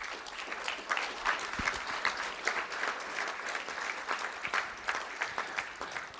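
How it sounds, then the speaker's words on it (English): An audience at a school district board of trustees meeting claps for student academic champions. The applause is a moderately loud, fluttering patter from a smallish crowd, with scattered sharper claps, that carries on throughout. "Let's give them a round of applause."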